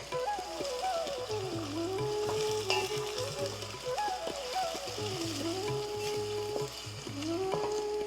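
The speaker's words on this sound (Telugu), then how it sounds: "బాగా వేగాలండి, కొంచెం బ్రౌన్ కలర్ వచ్చే వరకు వేయించుకుందాం." Spices sizzle and fry in a pan while goat trotter paya is being prepared, giving a steady, close crackle. Music plays underneath throughout.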